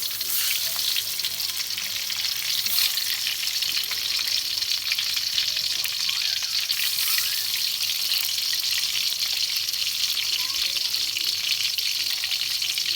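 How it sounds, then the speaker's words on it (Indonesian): Tempeh and tofu fry in hot oil, giving a steady, bright sizzle that crackles without a break from start to finish. "panaskan minyaknya sampai dirasa cukup panas. Kemudian kita masukkan perlahan tempe dan tahunya."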